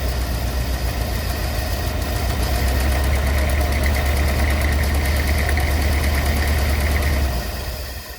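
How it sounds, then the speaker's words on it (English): A Rolls-Royce Silver Shadow II engine runs steadily up close, with a loud, deep rumble and fine mechanical vibration that holds constant before easing off at the end. "I'm going to get the engine warmed up a bit just to make sure it's all fine and dandy"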